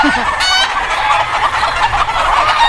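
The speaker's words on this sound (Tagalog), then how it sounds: "Kala nila ako yung magpapakain sa kanila kaya nagiingay na sila." Farm chickens cluck noisily as they wait to be fed, a loud, steady flock chorus of overlapping clucks filling the whole stretch at close range.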